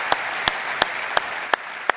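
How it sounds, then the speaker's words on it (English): Audience applause at a conference for speaker Kathleen Medford, a steady dense clatter of many hands with a few sharper claps standing out at regular intervals, sustained throughout. "another round of applause for Kathleen Medford"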